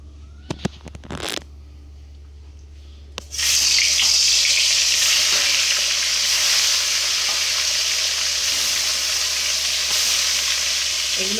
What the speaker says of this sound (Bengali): এদিকে তেল গরম হয়ে গেছে, এর মধ্যে কিন্তু মাছগুলো আমি দিয়ে দেবো